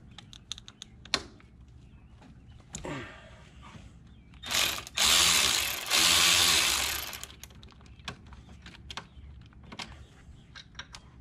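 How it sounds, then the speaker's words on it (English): Ratchet wrench with a 15 mm socket clicking on the brake bolts of a Can-Am Maverick X3 XRC, sparse close ticks around two louder bursts of rapid ratcheting. "We used a 15 millimeter socket on those."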